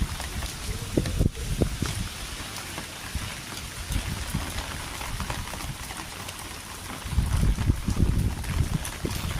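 Heavy morning rain pattering on surfaces, a steady hiss with scattered close drips and thumps, a few heavier gusty surges, no speech.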